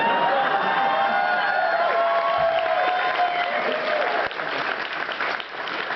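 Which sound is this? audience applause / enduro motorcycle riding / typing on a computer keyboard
audience applause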